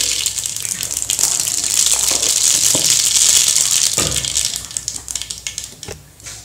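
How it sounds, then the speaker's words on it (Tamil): Mustard seeds spluttering in hot oil for tomato thokku, with a loud, dense hissing crackle that holds steady, then thins into scattered pops toward the end. "எண்ணெய் காஞ்சிட்ருக்கு அதில் கொஞ்சம் கடுகு"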